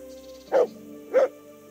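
A dog in the medieval game Kingdom Come: Deliverance gives two short, clear barks about half a second apart over a faint, quiet background.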